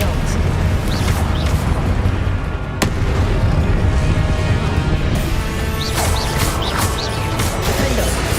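Confringo explosion spell going off during combat in Hogwarts Legacy, a loud blast with crashing debris amid continuous dense game effects and bursts, one sharp impact near the three-second mark.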